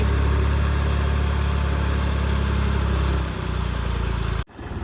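A tractor engine drones loudly and steadily while straining to pull a Suzuki Jimny stuck in mud, then eases slightly after about three seconds before an abrupt break near the end.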